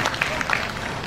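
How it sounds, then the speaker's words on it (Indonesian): Audience applause at a city hall gathering in Solok, a brief burst of clapping with scattered crowd noise throughout, steady and fairly close. "Tepuk tangan dulu Pak Wali."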